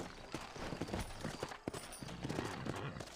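Horse hooves clip-clop in a steady walking rhythm in Red Dead Redemption, fairly close, with soft ambient noise around them.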